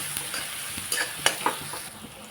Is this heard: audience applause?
no